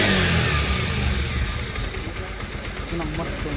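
A Bajaj Pulsar 125 BS4 motorcycle engine, just repaired after an engine noise fault, runs and revs steadily up close, with a continuous loud mechanical drone and broadband noise throughout.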